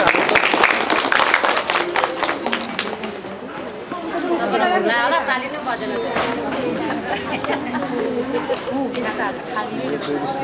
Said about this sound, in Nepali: ताली गर्छ